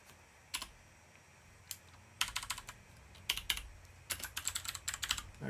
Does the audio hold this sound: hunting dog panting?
no